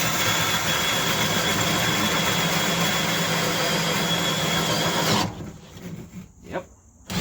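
A drill bores a hole into the ground with a steady, loud grinding whir that runs continuously, then stops abruptly, leaving faint intermittent handling noises.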